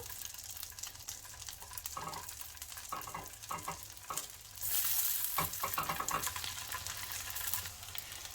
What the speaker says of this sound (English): I've got some hot melted butter here. I'm going to pop these on until they brown.